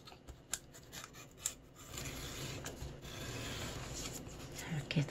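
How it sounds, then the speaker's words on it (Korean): Scissors snip through colored paper during papercraft folding, giving soft rasping cuts and rustles at close range, with brief louder snips early and a steadier paper-rubbing texture later. "가위나 칼로 잘라줘야 돼요."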